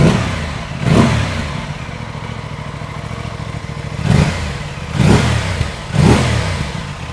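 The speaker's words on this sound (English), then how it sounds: "so let's get a couple revs in. It's pretty much what you'd expect from a stock exhaust." A stock-exhaust Tuono 660 Factory motorcycle engine idles, then gives four short revs: one early, then three close together near the end, each a brief rising growl over the steady idle. No talking.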